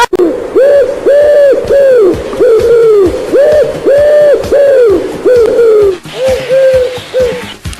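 A pigeon gives repeated rising-and-falling cooing calls, loud and close, in a steady rhythm of about a dozen phrases with brief gaps, the last few slightly softer against a faint hiss.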